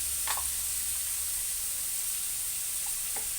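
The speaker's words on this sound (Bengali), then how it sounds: "তার জন্য যে চিংড়ি মাছগুলো ভেজে নিচ্ছি" Shrimp frying with salt and turmeric in a wok give a steady, close sizzle throughout, with a couple of brief clinks of stirring near the start and end.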